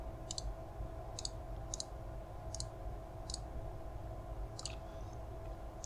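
Computer mouse clicks during 3D modeling work, about seven crisp, quiet single clicks spaced irregularly over a faint steady hum, with no talking.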